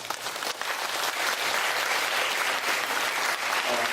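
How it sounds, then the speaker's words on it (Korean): A church congregation gives loud, warm applause for teachers at a summer Bible school service, dense clapping that swells and holds steady for several seconds. "우리 수고하신 우리 교사님들을 위해서 한번 뜨겁게 박수 한번 해주시죠"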